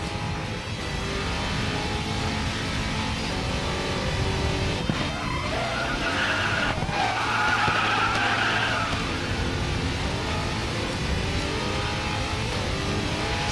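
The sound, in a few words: car drifting and skidding tires in Bugatti racing video game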